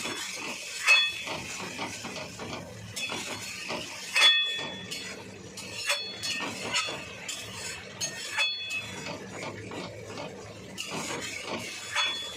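Onions and tomatoes fry in a pan while a utensil stirs them, with recurring metallic clinks and scrapes against the pan every few seconds over a low, steady sizzle, close and moderately loud, with no talking.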